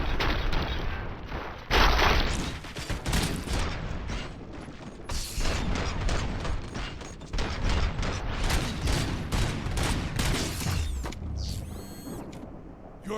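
A volley of gunfire erupts in rapid overlapping bursts of sharp cracks, loud and close, mixed with mechanical clacking and rattling. It continues for most of the span before dying away into a brief whirring tail.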